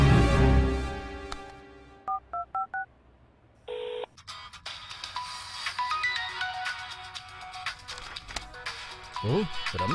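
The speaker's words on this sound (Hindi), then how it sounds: "ओ, रम्या का फोन है।" A mobile phone rings with an incoming call in a Hindi-dubbed South Indian mystery film: a few short electronic beeps, a pause, then a melodic ringtone that loops on under background score.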